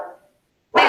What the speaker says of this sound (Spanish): se escucha por allá un perro